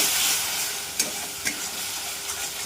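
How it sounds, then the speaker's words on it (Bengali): Spice paste with salt, cumin and turmeric fried and stirred in a kadai after nigella seed tempering for oil-cooked koi fish, a constant hissing sizzle broken by a few sharp spoon scrapes, no voices. "ভালো করে কষে নেব।"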